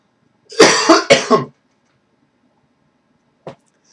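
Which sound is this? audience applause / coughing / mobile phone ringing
coughing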